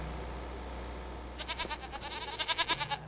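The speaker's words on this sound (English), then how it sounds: "let's go over and check on the goats, since we actually have some of those now" Several goats bleat in a farming video game, a run of wavering, rhythmic cries from about 1.4 seconds onward, with a steady low background hum beneath them.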